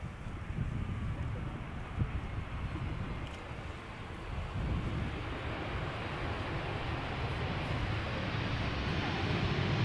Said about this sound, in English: Arriving from Barcelona, flight 8309, Airbus A320, 11-year-old airplane